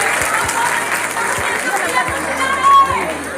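A crowd at a fashion show event in Jabalpur applauds in a broad, steady wash of clapping mixed with chatter and crowd murmur throughout.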